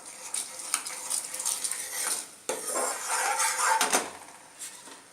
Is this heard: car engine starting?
no